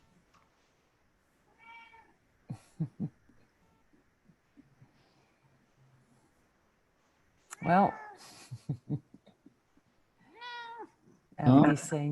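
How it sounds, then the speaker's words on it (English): Bill the cat meows a few times in a quiet room during an online webinar, short scattered calls with a louder cluster near the end, and a person briefly speaks between them. "Sounds like Bill the cat has joined us."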